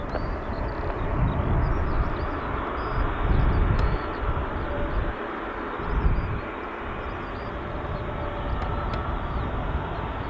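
A CASA C295 turboprop military transport lands at Dublin Airport, its engines a steady, broad roar that swells and eases over about ten seconds. The sound carries outdoors from a moderate distance, with no voices.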